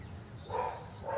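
A dog gives a couple of short, close barks or yips in quick succession in a quiet home setting, with no talking over them.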